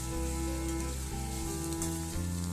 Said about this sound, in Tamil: ஏன்னா கோவக்காய் வேகிறதுக்கு கொஞ்சம் டைம் ஆகும், அதனால் கொஞ்சம் நல்லா வதக்கி விடணும்